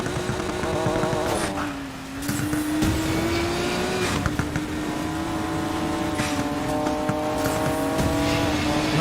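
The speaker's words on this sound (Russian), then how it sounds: "Нормально так Фаерледи едет. По пересеченке." A Nissan Fairlady racing off-road over rough terrain in Need for Speed Payback. The engine drones steadily with shifting revs, and occasional thumps and tire squeals are heard, with no talking.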